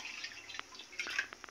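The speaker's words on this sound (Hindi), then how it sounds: "यह है कढ़ाई और मैं इसमें पानी डाल रही हूँ" Water poured into a kadhai (wok) while making a colocasia (arbi) leaf dish, giving a brief, quiet run of splashing and dripping close by, with no talking.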